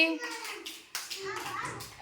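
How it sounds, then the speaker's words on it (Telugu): Children clap for two classmates during a walking-on-a-line balance activity at school; a voice speaks briefly first, then a spread of quick, uneven claps follows close by for about a second. "ఇద్దరికి ఇద్దరికి క్లాప్స్ కొట్టండి"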